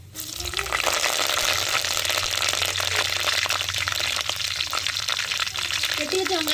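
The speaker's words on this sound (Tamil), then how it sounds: "என்ன சூடாச்சுங்க கடுகு போட்டுக்கிறோம் ரெண்டு கருவேப்பிலை போட்டுக்கிறோம்" Mustard seeds and curry leaves crackle and sputter in hot oil in a pan, giving a loud, dense, continuous sizzle with scattered popping.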